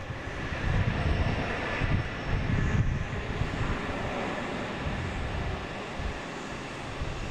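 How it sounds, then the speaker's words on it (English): A JetBlue airliner coming in to land makes a low, rumbling engine roar that swells early, then eases slightly, heard from a moderate distance with some wind buffeting and no voices. "We got a JetBlue coming in amongst all the fun happening here in front of us."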